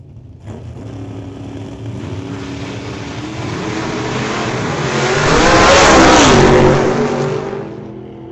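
Drag racing cars, including a stick shift Camaro, launching down the strip at an old-time drags event: a loud engine roar that builds steadily as the car accelerates away, peaking then fading slightly, with no talk.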